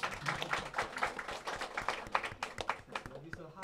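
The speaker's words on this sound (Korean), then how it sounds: "박수" Brief round of applause from a graduate school class, a quick patter of clapping hands at moderate distance, layered with some speech.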